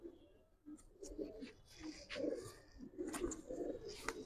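Five male Giribaz pigeons in a cage coo in repeated low, throaty bursts, close by, with overlapping calls and light rustling between them.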